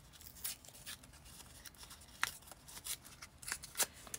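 Paper being torn apart for a box journal, heard as a string of short, close, crisp ripping and rustling bursts over a quiet background, with no talking.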